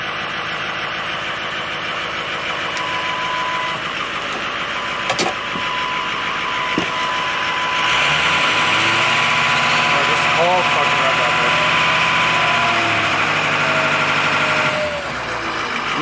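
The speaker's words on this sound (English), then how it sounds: "Now, that's a nice freaking sounding 6 liter." A Ford F250's 6.0 Powerstroke diesel engine idles nearby with a steady, knocking rumble that grows louder partway through; a person talks over it.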